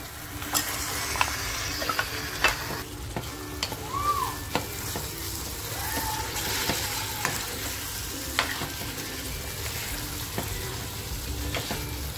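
Boiled mutton stirred into a frying masala of spices and fresh coriander, sizzling steadily throughout with repeated scraping and clinking of a spoon against the pan, close and clear, no talk.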